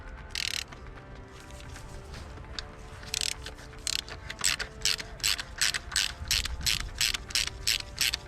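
A ratchet with a 10mm socket clicks in quick bursts of sharp pawl clatter, pausing between strokes, as studs come off the rocker cover of a Mini R53 engine, close by.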